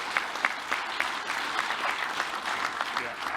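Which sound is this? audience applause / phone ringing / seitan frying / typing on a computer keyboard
audience applause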